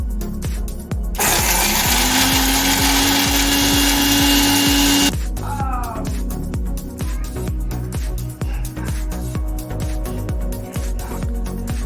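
An electric spice grinder pulverising whole biryani spices in a home kitchen, a loud high whirring burst lasting a few seconds that rises in pitch, then stops, leaving quieter clatter and kitchen sounds.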